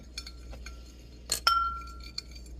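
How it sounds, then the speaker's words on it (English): A mixture being stirred in a glass, with a few light glass clinks and taps, one bright ringing clink standing out near the middle, all fairly quiet with no talking. "You want to stir that in really good."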